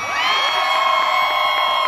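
A concert crowd in Guatemala roars and cheers loudly and continuously, with high shouts and whoops blending into a dense, sustained wall of sound.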